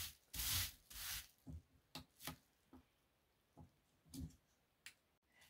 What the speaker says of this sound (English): And we'll put the bubble wrap over the top and smoothing it.